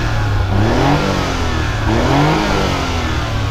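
A 1993 Daihatsu Atrai with a manual 660cc engine runs loud and close, revving up and easing off in two smooth swells over a steady mechanical hum.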